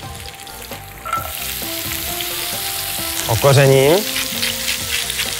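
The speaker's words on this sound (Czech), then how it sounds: "Na té druhé pánvi mezitím orestuji červenou cibulku" Red onion frying in a pan sizzles loudly and steadily, with occasional scraping and stirring sounds, while someone briefly speaks over it.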